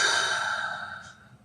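A single deep breath, a long airy inhale-exhale with a sigh-like quality, close and fairly soft, fading over about a second and a half with no talk.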